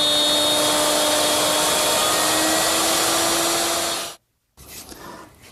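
Router with a fence cutting a mortise in the top edge of a wooden chair rail for a corner chair, a loud steady high whine that cuts off abruptly, followed by a brief silence and then softer workshop noise.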